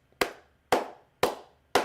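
Four slow, evenly spaced hand claps, sharp and close, each ringing briefly before the next, in a round of applause for Bronny after a fantastic basketball game.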